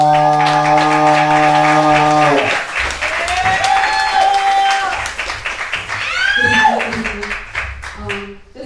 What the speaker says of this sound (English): Let me get a round of applause for